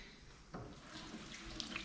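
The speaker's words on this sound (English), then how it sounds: "I'll take it over to the sink, rinse it really well" Tap water runs into a sink as a freshly plucked chicken is rinsed, a soft, steady splashing stream close by with no talk.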